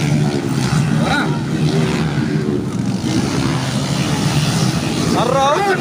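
Underbone motorcycle racing engines rev hard through a final heat at a barangay street race, a continuous loud buzzing drone with pitch swells as bikes pass, under a noisy crowd with shouting spectators.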